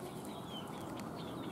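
Chickens on a farm clucking softly at a distance, a continuous low murmur of fowl with faint higher calls, no talking.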